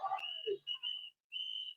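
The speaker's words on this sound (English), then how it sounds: "The whistles are a new community tactic to alert people that ICE agents are in the area." Whistles blown by locals in the street to warn that ICE agents are nearby, heard as a few short shrill blasts, close and clear, with brief gaps between them.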